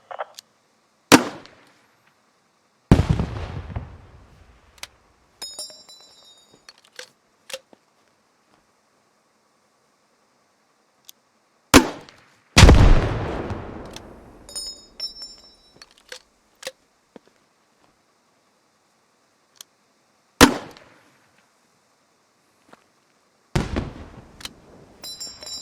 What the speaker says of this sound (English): Grenadiers in your squad carry a grenade launcher slung under their primary weapon. These fire 40mm grenades